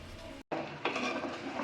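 Beef kala bhuna being stirred with spices in a pot, giving steady scraping and clinking of a spoon against the pot with a brief pause near the start, close and moderately loud.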